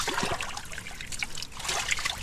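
Water trickles and dribbles continuously as a rice paddy drains, a close, busy splashing flow with no voices.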